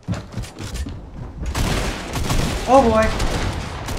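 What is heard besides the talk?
gunshots in Fortnite Battle Royale video game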